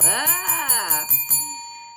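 A bright ringing bell sound effect strikes about six times in quick succession, then its metallic tones fade out, close and clear with no talking.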